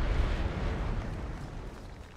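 An IED explosion in the video game H1Z1 gives a heavy, rumbling roar that fills the short stretch and slowly tapers, with no voices over it.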